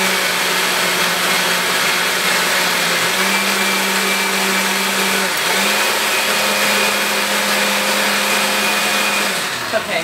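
A blender grinding beet roars steadily at high speed, its loud motor whine shifting pitch slightly as the contents churn, then winding down at the end.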